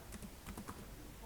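Computer keyboard typing of Linux command-line input, a quick run of quiet clicking keystrokes in an irregular rhythm over about a second, close and soft.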